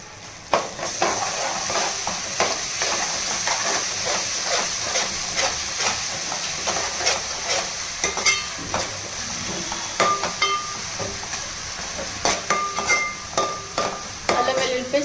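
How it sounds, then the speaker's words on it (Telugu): Green chillies and ginger-garlic paste frying in a pan with browned onions, a loud continuous hiss and sizzle under frequent quick stirring clicks and scrapes, close up throughout. "ఇప్పుడు పచ్చిమిరపకాయలు వేసుకుందాం. ఇప్పుడు అల్లం వెల్లుల్లి పేస్ట్,"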